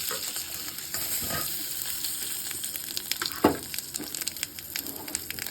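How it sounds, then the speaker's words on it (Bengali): Cumin seeds and a ground paste of cumin, chili and ginger fry in hot oil with a steady close sizzle, broken by stirring scrapes and one sharp clatter partway through. "এটাকে আমি ফোড়ন দিলাম, এটাকে একটু ভেজে নেব।"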